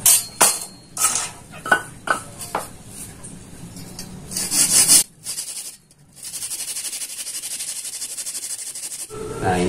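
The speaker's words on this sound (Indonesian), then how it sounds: "tinggal gergaji lagi." A hand saw cuts a Hebel aerated concrete block into pieces for a mini bonsai pot, first in short scraping strokes, then after a brief pause in a longer continuous rasp, close and alone.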